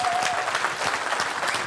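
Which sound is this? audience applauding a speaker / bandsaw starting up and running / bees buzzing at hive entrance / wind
audience applauding a speaker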